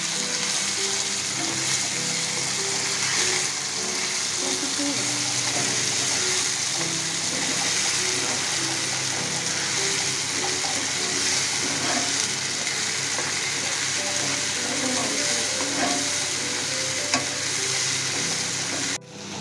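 Pointed gourd paste with chopped onion fries loudly on a stove in a dense, continuous sizzle with busy bubbling and crackling, and occasional stirring knocks from start to finish. No voices.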